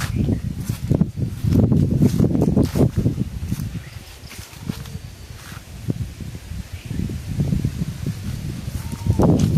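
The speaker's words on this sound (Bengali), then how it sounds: "এখানে যে বাতাস, প্রচুর বাতাস" Gusty wind roars through mango trees in surges, with leaves rustling loudly, easing briefly midway before building again.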